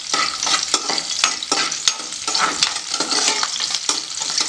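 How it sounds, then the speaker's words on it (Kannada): Garlic fries in a pan for a garlic chicken dish, with a loud, steady sizzle broken by repeated scraping taps of a stirring utensil, close up and without speech. "ಗಾರ್ಲಿಕ್ನ ಸ್ವಲ್ಪ ಫ್ರೈ ಮಾಡ್ಕೊಳ್ತಾ ಇದ್ದೀನಿ."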